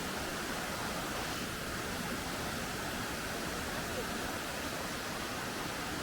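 A large waterfall in Colombia's Cocora Valley roars as a steady, loud, broadband rush of falling water. It goes on the whole time without a break and covers everything else.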